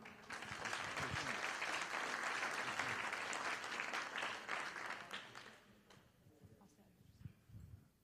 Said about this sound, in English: give Alan a very big warm round of applause